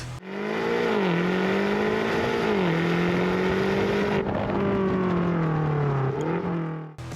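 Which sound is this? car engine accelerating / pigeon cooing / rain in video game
car engine accelerating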